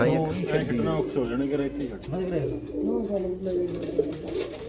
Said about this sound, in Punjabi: ਆ ਕਬੂਤਰੀ ਹੈ